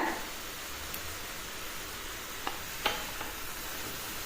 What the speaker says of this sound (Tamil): ஒரு 5 நிமிஷம் அப்படியே கொதிட்டுங்க. நல்லா கொதிச்சு வந்துடுதுங்க.